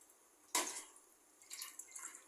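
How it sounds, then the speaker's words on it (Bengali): Water splashing into a pan of snake gourd and pangas fish as it cooks, a sudden pour followed by a second, lighter stream of splashes and drips, close and fairly quiet. "আর একটু হালকা জল দিই"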